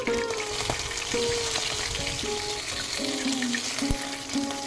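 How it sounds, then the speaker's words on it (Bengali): Pabda fish fry in hot oil in a pan, a steady close crackling sizzle with spatula scrapes and soft clinks as the fish are lifted out to drain. "সব কটা মাছ ভাজা হয়ে গেছে, এবার তেল ঝরিয়ে একটা পাত্রের মধ্যে মাছগুলো তুলে রাখছি।"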